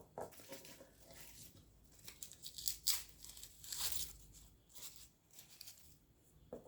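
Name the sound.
tearing excess papery skin off a harvested garlic bulb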